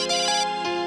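A phone ringtone plays loudly and close, a bright melodic electronic tune with a couple of short rising notes, alone without voices.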